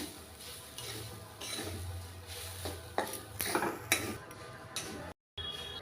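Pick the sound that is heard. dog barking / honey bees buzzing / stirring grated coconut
stirring grated coconut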